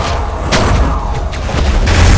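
Bombs explode during a boss fight in the video game Hyper Light Drifter. Several loud, dull booms land in quick succession over dense, continuous game noise.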